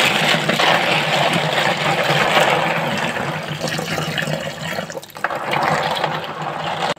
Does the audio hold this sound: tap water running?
yes